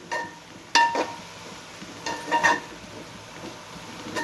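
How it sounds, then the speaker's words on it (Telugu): Amaranth greens sizzling in a pan over medium heat with a steady low crackle, punctuated by a few scraping stirs and clinks of a utensil. "ఇప్పుడు మీడియం మంట పెట్టుకొని వేయించుకుందాము"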